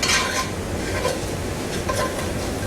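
Okra begins to sauté in vegetable oil in a pan during home processing for freezing and canning, a soft continuous sizzle with faint clinks of a utensil against the pan, no talking.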